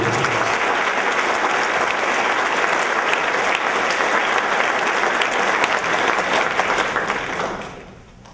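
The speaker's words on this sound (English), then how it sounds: "please give our maintenance people a very round of applause." Audience at a spring sports awards event claps loudly and continuously, a full, dense wash of applause from a large room that tapers off in the final second.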